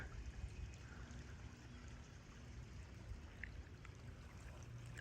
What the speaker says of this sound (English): I think the waterfall, one of them is right up here.